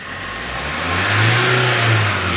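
Close-up revving of a Mahindra Scorpio pickup with its engine cover off as the accelerator is pressed. The engine note climbs smoothly to a loud peak, holds briefly, then eases back slightly with no voices over it.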